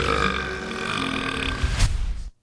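A person voices a long, throaty imitation of a burp, standing in for a black hole, heard loud and close before the sound cuts off.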